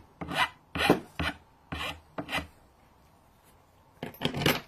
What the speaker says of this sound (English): took a metal file just to get rid of some of the excess plastic and round out the corners slightly